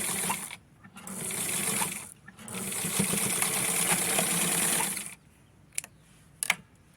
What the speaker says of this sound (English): Now I'm going to be sewing that part right there